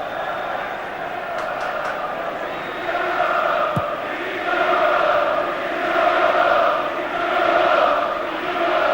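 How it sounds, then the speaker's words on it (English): A large football crowd at the 1990 FA Cup Final roars with expectancy, a dense, sustained distant wash of voices that swells and surges in waves, with commentary faintly beneath. "There's a roar of expectancy from the United crowd, but Brian McClare"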